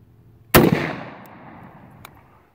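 A Savage 77 pump shotgun fitted with a Poly Choke compensator fires one loud, sharp shot outdoors. The blast rolls off in a long echo, followed by a couple of faint clicks.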